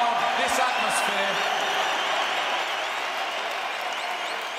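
A boxing arena crowd roars and cheers after a fight, a dense, loud, sustained din with faint whoops and claps, while a voice talks over it early on.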